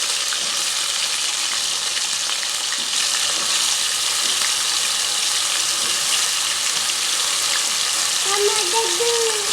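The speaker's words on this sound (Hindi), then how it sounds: "ये आलू हमने डाल दिए, और आलूओं को भी हम अच्छे से फ्राई करते हैं।" Potatoes frying in hot oil in a pan for an aloo shimla mirch dish, a loud continuous crackling sizzle with stirring scrapes, steady and close.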